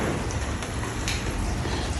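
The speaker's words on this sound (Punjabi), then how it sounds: "ਆ ਦੇਖੋ ਮੀਂਹ ਪੈ ਗਿਆ" Monsoon rain during the rainy month of Sawan in a Punjab village falls in a steady, dense hiss, close and continuous for the whole stretch, with no voices over it.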